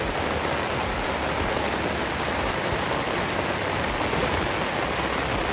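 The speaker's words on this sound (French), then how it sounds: "d'un coup il s'est mis à pleuvoir" Tropical rain drums steadily on a tent during a camping stop in Ecuador, a dense, even hiss of close raindrops that holds without pause and with no voices.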